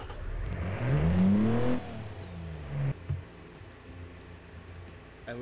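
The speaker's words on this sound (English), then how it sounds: "We've got quite the engine." Engine of a small homemade sports car revving up in a rising, loud burst, then dropping back to a lower idle with a second short blip.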